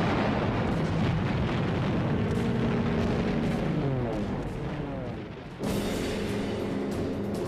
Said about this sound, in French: Durant l'escalade, ils sont constamment soutenus par les tirs de barrage de l'aviation et de la marine